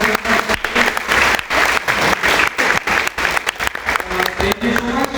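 An audience at an academic seminar applauds, with dense, loud clapping filling the room and continuing steadily for about five seconds.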